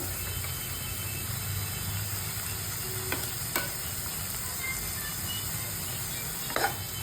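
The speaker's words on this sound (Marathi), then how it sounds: "याच्यामध्ये तयार केलेले वाटण टाकूया" Ground masala paste fries in a pan of chicken curry, a steady close sizzle with a few scrapes and clinks of stirring, and no voices.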